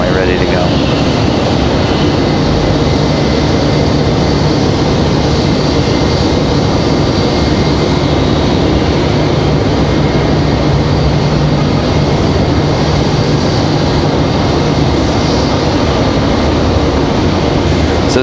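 JetBlue and Frontier airliners at Raleigh-Durham International Airport, a loud, steady broadband roar of jet engines running continuously throughout, with no distinct breaks.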